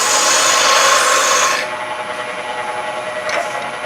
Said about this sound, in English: I can use the parting tool